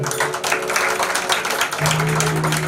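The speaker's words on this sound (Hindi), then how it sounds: "एक बार इनके लिए भी ताली बजा दो।" A crowd at a devotional gathering claps together, a dense burst of applause heard close for a couple of seconds, with a low tone rising underneath near the end.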